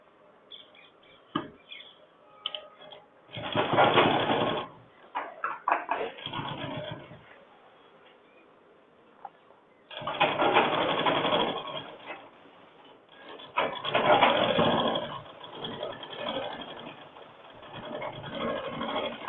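A sewing machine stitches a men's shirt in bursts of rapid whirring, with three main runs separated by quieter pauses and small handling noises.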